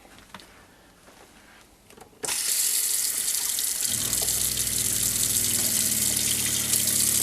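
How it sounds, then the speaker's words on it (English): After a short quiet stretch of low background noise, an RV sink faucet with the water pump running bursts on and water gushes loudly and steadily, with a pump hum joining underneath. "good pressure coming out of the sink"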